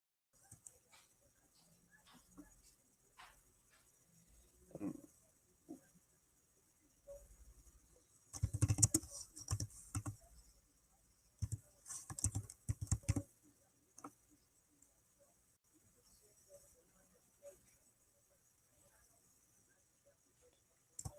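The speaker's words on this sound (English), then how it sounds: "I was so surprised that I couldn't do this typing easy." Sparse clusters of light clicks from typing on a computer keyboard, quiet and close, coming in short bursts with long pauses between them.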